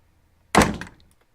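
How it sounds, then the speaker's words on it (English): A door sound effect from a sound library, one solid wooden thunk or slam that strikes sharply and fades quickly, isolated against near silence. "What is my standard door?"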